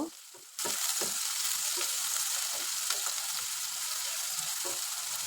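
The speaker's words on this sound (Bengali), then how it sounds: "পেঁয়াজ ও কাঁচামরিচটি ভালো করে ভেজে নেব" Onion and green chilies fry in oil in a pan, giving a steady, close sizzle that starts after a short quiet moment and runs on with faint stirring clicks and no talking.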